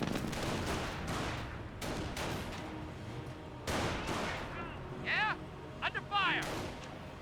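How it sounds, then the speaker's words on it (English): Small arms gunfire crackles in the Company of Heroes strategy game, repeated bursts over a dense battle din, with sharp ricochet-like whistles near the end and voices talking throughout. "Taking small arms fire here."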